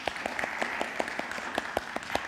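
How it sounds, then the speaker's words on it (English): Audience clapping for a church choir during a service, steady rhythmic claps from a modest group at moderate distance, with no talking over them. "Let's just all clap for the choir."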